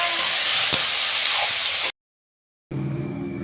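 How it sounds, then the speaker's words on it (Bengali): Boiled jackfruit sautés in a hot pan for a Bengali prawn curry, giving a steady loud sizzle and hiss that breaks off for a moment of silence before the frying resumes. "এবার সুন্দর করে কষিয়ে নেব।"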